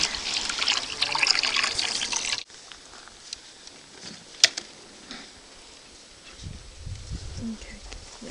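Water is poured into a bucket to soak the roots of fruit tree saplings, a rushing splash for a couple of seconds that then cuts off, leaving quiet outdoor background and faint movement.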